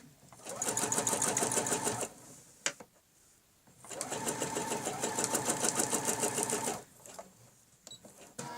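Quilting sewing machine stitching a pattern along a ruler, running in two sustained bursts of rapid, even needle rhythm, close and loud, separated by a short pause with a sharp click.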